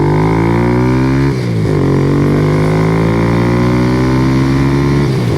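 Kawasaki Z125 Pro single-cylinder motorcycle engine held at full throttle, a loud, steady buzzing drone with one brief dip and recovery in pitch, ending with another drop near the close.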